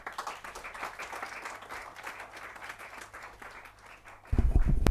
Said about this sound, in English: Please join me with an applause